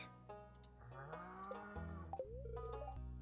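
Cattle in the farming game Stardew Valley moo several times in a row, with synthetic, clear calls alone and no talk.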